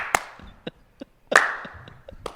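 A slow, sparse clap of a few hands, sharp individual smacks spaced irregularly across about two seconds, close to the listener, with a brief murmur of voices in between.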